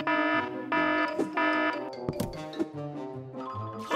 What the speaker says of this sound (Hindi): अलार्म नहीं, बंद हो जाओ।